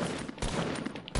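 Rapid gunfire bursts in the video game Fortnite, loud and close, as a short rattling volley with a brief gap before the next shots.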